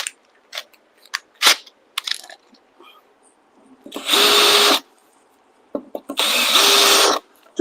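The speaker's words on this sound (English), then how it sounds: "Now I'm going to get my countersink." A countersink bit on a wobbly drill press cutting into plexiglass, with two loud sustained grinding bursts of about half a second and a second each. Between them come short clicks and knocks.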